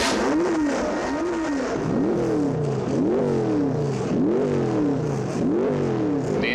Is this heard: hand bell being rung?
no